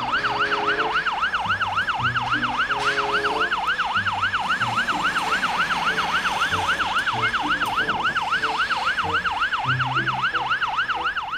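A toy ambulance's wailing siren sweeps steadily up and down in rapid, regular cycles, loud and continuous, with a faint low rumble of handling noise underneath.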